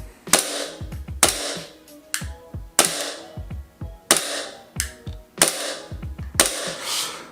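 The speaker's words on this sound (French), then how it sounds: "Donc je tire à blanc, je maintiens l'arrêtoire" A WE Glock 17 Gen 5 airsoft pistol dry-fired with the slide held back, giving about eight sharp, loud, close trigger clicks spaced roughly a second apart, each with a short metallic ring.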